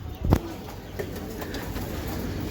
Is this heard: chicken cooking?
no